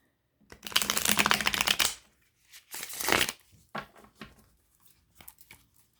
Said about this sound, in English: Let me just give these a quick shuffle here.